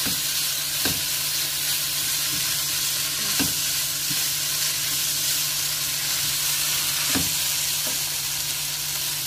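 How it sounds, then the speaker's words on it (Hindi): Chicken and vegetables fry steadily in a pan, a continuous close sizzle with a few sharp clinks of a utensil stirring through the food, no voices. "ये जो सब्जियां सारी फ्राई हो गई हैं"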